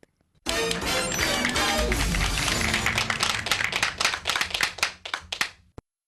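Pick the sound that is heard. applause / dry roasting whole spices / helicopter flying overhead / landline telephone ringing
applause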